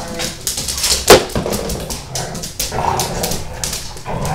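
A dog whimpers and yips with several short barks in quick, uneven bursts, close and fairly loud, one sharp bark standing out near the start.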